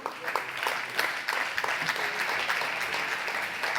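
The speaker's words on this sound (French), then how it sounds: "on vous applaudit, Philippe Martineau" An audience at an eco-activities awards ceremony applauds Philippe Martineau, president of Bretagne Compétitivité, with dense, steady clapping that carries on without a break.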